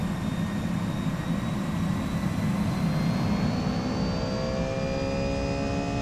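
An airliner's jet engines roar steadily at takeoff power on runway 27 left in the X-Plane 11 flight simulator, with a high turbine whine slowly rising in pitch over a dense low rumble.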